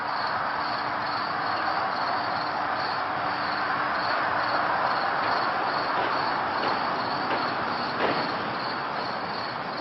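Crickets chirp outdoors at night in a dense, continuous, high-pitched pulsing drone, steady and fairly loud throughout, with a few faint clicks and knocks and no speech.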